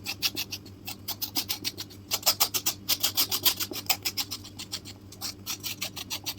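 Close, quiet scraping as a knife is drawn again and again over the ridged skin of a snake gourd, making quick rasping strokes in irregular bursts with short pauses between them.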